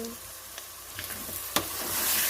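Tomatoes go into a hot pot holding roux for beef goulash, setting off a soft steady sizzle with a few small clinks and stirring scrapes close by, the frying growing slightly louder at the end.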